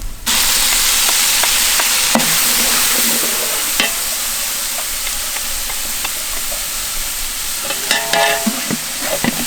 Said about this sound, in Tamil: அரைச்ச இஞ்சி பூண்டு, மிளகாய்த்தூள், ஒரு பிடி கொத்தமல்லி, ஒரு பிடி புதினா, தேவையான அளவுக்கு உப்பு, இது எல்லாத்தையும் சேர்த்து நல்லா வணக்கி விட்டுக்கலாம்